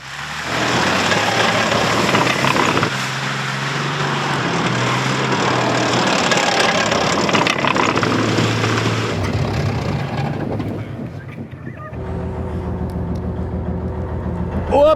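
A Soviet BMP-1 infantry fighting vehicle's engine runs loud and close, a steady heavy roar that holds for several seconds, then drops to a lower, rougher idle near the end.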